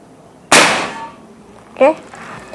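A PCP air rifle, a Sanaji Neo Class OD 25 fired at maximum power, sends a pellet into a metal knock-down target: one sharp, loud crack followed a moment later by a brief ringing clang, both alone.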